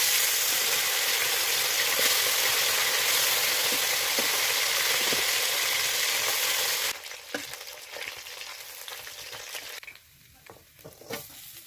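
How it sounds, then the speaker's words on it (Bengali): Bata fish seasoned with salt and turmeric fry in hot oil, giving a loud continuous sizzle. After about seven seconds it drops to quieter crackling with occasional stirring clinks. "এখন আমি বাটা মাছগুলো ভেজে নেব"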